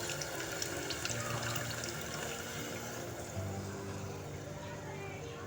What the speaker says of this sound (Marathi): मी याला चिंचेचंच पाणी टाकते शिजायला